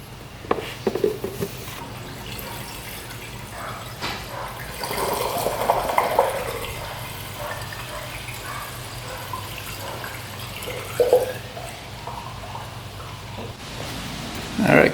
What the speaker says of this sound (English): And then we'll try adding coolant to it.